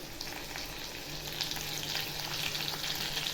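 Green chillies go into ginger and garlic frying in oil, bringing a constant close crackling sizzle. Light stirring is heard and the hiss grows a little stronger toward the end, with no one speaking.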